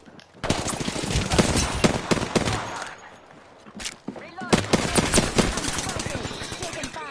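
Gunfire in the Apex Legends battle royale game, rapid bursts of automatic shots rattling loudly and close, with a brief lull midway before the shooting resumes, while a voice talks over it.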